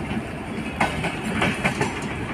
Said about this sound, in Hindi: मेरी ट्रेन ये रही